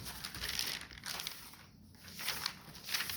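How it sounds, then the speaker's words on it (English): Soft crinkling and rustling of paper pages being handled and turned, quiet and close, in irregular bursts. "Enjoy the sound of paper."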